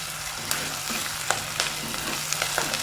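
Small onions sauté in a pan for a pearl spot fish curry, giving a steady close sizzle with occasional soft stirring clicks and no talking.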